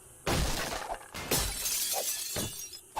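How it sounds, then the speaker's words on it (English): Glass shattering under axe blows in the 7 Days to Die game, two or three bursts of breaking and tinkling shards, loud and close, with no speech. "If I can maybe break through here with the axe."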